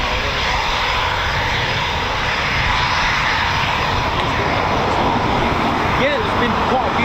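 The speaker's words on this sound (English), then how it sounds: "there's been quite a few takeoffs, a few performance takeoffs as well" Eurofighter Typhoon FGR4 jet roaring through a takeoff at an RAF station, a loud, steady broadband engine blast filling the whole stretch, with faint voices underneath.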